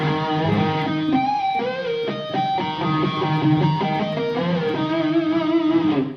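An effects-laden electric guitar plays in a wavering melodic line with bending notes and a processed, slightly distorted tone, steady and fairly close.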